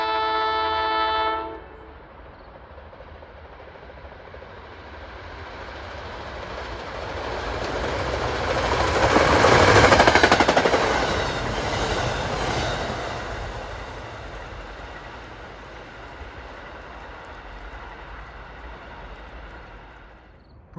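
Express passenger train on a Hoboken to Gladstone line at a station, with a brief horn blast at the start followed by a swelling rumble and rush of the train passing close by, which fades away gradually.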